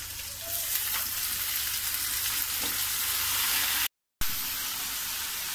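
Bitter gourd fries in a pan with a steady, close hiss of sizzling oil and occasional stirring, with a brief break near the end.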